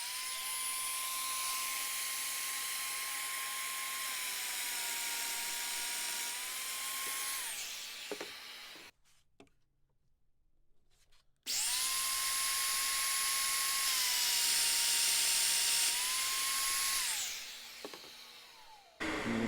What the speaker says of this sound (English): You can see I've got my 2 domino mortises in my first side